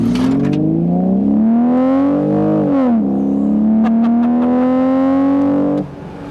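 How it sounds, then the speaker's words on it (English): A BMW Z4 E85 with automatic transmission accelerates hard in first gear, its engine note climbing loudly and close, dipping briefly as it shifts, then rising again before cutting off abruptly. "Let's do a quick little acceleration test. First gear"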